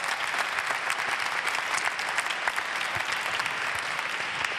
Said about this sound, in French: Je voudrais qu'on l'applaudisse très, très fort, sœur Marlène.